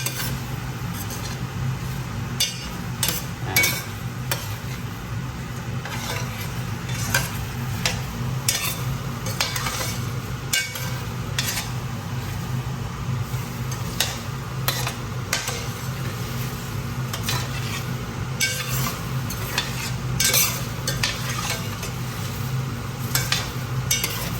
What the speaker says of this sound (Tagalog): Haluin natin guys para mabilis kumati